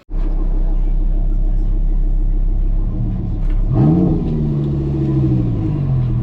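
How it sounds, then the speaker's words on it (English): A car engine idles with a steady low rumble, then revs sharply, the pitch climbing and slowly winding back down, loud and close. "After starting the car, he let me rev the engine."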